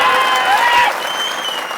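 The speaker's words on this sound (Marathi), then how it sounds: "काय जोरदार टाळ्या पाहिजेत मला" A burst of crowd applause at a political speech, dense clapping that fades slightly toward the end, with faint voices mixed in.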